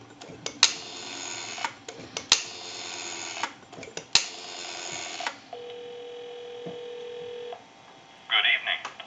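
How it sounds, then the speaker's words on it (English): Bursts of telephone line noise and clicks on a Stromberg-Carlson telephone give way to a steady, faint dial tone hum, followed by a short touch-tone beep at the end. "So we'll give you some dial tone."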